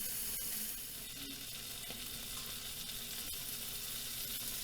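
Butter sizzles steadily in a hot pan before blackened catfish goes in, a soft continuous hiss at close range with no voices over it.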